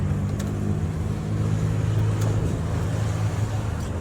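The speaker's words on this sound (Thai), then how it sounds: "เดี๋ยวมาฟังเสียงท่อโยชิมุระกันหน่อยนะครับ" A 2022 Honda Forza 350 RS scooter fitted with a Yoshimura exhaust idles and runs with a steady low engine rumble, loud and close, with a few faint clicks on top and no talking.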